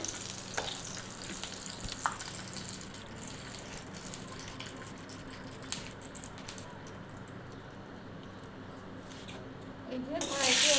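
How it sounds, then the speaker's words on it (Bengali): Oil heating in a wok after chicken was fried, giving a steady low sizzle with a few utensil clicks and a louder burst of frying at the very end. "এই যে কড়াইতে এখন তেল দিয়ে দিলাম"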